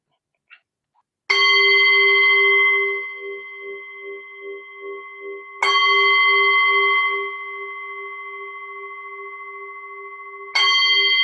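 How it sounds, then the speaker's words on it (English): A meditation bell rings three times with slow pauses between strikes. Each strike gives a clear, bright ringing tone that sustains and slowly fades, with a gentle pulsing shimmer as it decays. "So now I'll just ring the bell, and we begin by just watching our breath"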